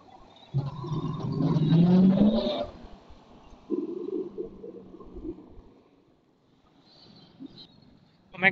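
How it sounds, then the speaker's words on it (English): Cars pull in at a classic and supercar show in Los Angeles, California: a nearby engine note swells and rises for a couple of seconds, then a second vehicle rumbles past more softly before fading to near quiet. "more cars are coming"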